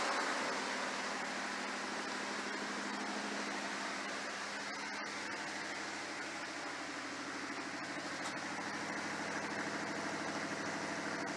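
A Pontiac Firebird engine idles steadily while running off its stock gas tank, a continuous low droning rumble with an even pulse that stays constant throughout, no voices.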